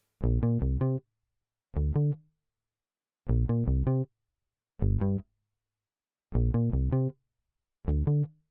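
A bass line variation from a song's second verse, played as six short phrases of quick plucked notes with clean gaps between them, fairly quiet and alone with no voices.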